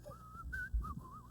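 A man whistles a short melodic phrase, a few sliding clear notes, close and fairly faint over low room rumble.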